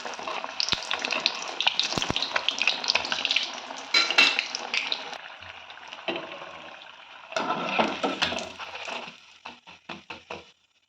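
A batch of stuffed egg masala bondas fries in hot oil with a busy bubbling sizzle. Utensils clatter against the pan in bursts, the frying thins out, and scattered clicks follow near the end.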